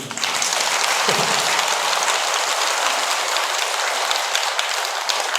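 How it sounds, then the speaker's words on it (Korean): Listeners at a Buddhist dharma talk at Jogyesa temple break into loud, continuous applause, a thick, steady wall of clapping that holds without pause. "박수 한번 치세요."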